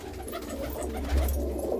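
Several large, sturdy pigeons kept by a fancier in a Punjabi village coo and shuffle together at close range, a low murmuring warble over steady background noise, rising slightly near the end.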